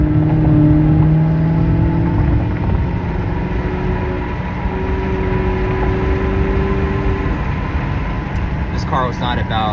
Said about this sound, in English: that naturally aspirated V8 howl is just intoxicating